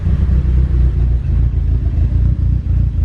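An Eagle Talon with a big turbo idles in a loud, steady low rumble with slight pulsing, close by and uninterrupted, freshly running after a transmission swap.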